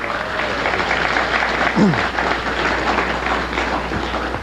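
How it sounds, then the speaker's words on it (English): An audience applauds old-time music dancers at a ballroom broadcast, dense steady clapping that fills the space throughout, with some voices underneath. "Do you mind if I give them a round of applause?"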